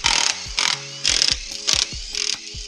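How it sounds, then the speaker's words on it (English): Ratchet wrench with a short extension backing out 13 mm bolts from the rear bearing support of an NV273F transfer case, giving six quick bursts of clicking with tonal metallic ringing, close and loud. "We're going to get on to pulling this rear bearing support off, 13 mil, and we'll need a little extension for it."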